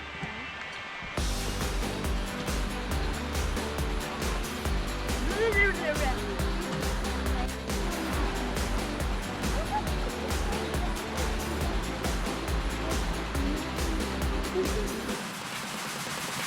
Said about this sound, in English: Little tiny waterfalls down this steep drop off.